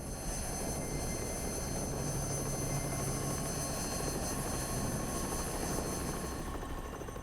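A helicopter flying on a supply run to a nearby town, giving a steady, continuous rotor and engine drone that holds at an even loudness throughout, with no talk.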